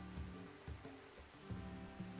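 Steady rain falls in the tribal-start colony of the video game RimWorld, a soft continuous patter with low rumbling pulses underneath, faint and alone with no talking.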